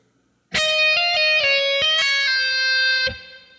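Electric guitar playing a fast distorted lead lick, with hammer-ons, pull-offs and slides down the neck, loud and close, ringing alone for about three seconds before cutting off.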